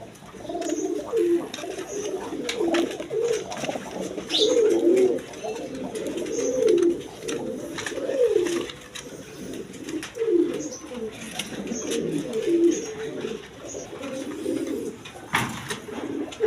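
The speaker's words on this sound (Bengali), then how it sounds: "দর্শকবৃন্দ এখানে এক পেয়ার রেশার কবুতর আছে দেখেন" Steady, repeated cooing of a pair of racing pigeons close by, soft rolling calls overlapping continuously with faint background noise and a little distant talk.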